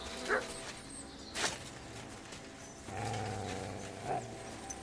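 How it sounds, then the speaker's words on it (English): A dog barking in the video game Kingdom Come Deliverance II, a few separate barks spaced apart over low ambient game sound, moderately distant. "My dog's barking at something though."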